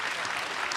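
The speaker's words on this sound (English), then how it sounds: "I just want you to give a warm round of applause to Stephen, Sara, Sean, and Jack." A brief burst of dense audience applause at a live discourse event in Fort Worth, steady and full throughout, with many hands clapping together.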